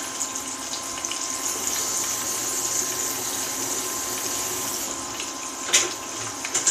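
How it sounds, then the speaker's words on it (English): Tap water runs steadily into a kitchen sink while something is rinsed under it. The hiss is close and constant with small splashes, and no one speaks. "I'm going to rinse this off."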